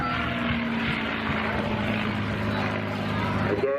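A P-51 Mustang propeller aircraft performs barrel rolls over the airfield at the Weston Air Festival air show, a loud, sustained engine drone that stays continuous throughout while a commentator talks over it.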